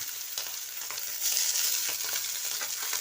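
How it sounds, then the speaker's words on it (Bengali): Boiled minced soybean added to onions frying in a pan, giving a steady close sizzle that grows louder as the mince hits the oil, with occasional stirring scrapes. "পেঁয়াজ ভাজা হয়ে গেছে, এবারে দিয়ে দিচ্ছি সেদ্ধ করা সয়াবিনের কিমা।"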